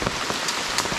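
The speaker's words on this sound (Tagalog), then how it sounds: "umuulan." Heavy rain falling outdoors near a river, a dense steady patter of drops hitting surfaces with a few sharper close splashes, no voices.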